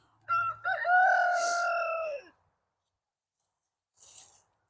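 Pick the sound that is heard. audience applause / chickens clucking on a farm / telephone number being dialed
chickens clucking on a farm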